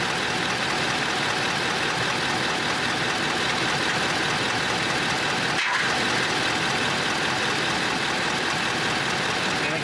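A 2022 Ford F-350 pickup engine idles in a steady, loud, unbroken rumble with a broad hiss, heard close during a transmission fluid flush, with one brief thump partway through.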